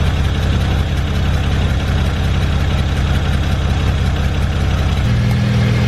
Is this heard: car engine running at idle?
yes